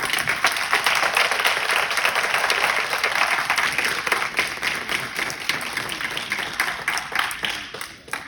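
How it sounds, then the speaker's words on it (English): Sustained applause from a crowd at a community candidate forum, steady dense clapping that slowly thins toward the end. "And a round of applause for our candidates."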